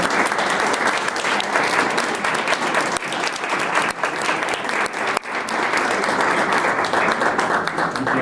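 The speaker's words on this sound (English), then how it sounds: "could I have one final round of applause for everybody?" Sustained audience applause fills a meeting room at a New York City voter engagement gathering, dense steady clapping from many hands that holds loud and even throughout, with a faint voice or two underneath.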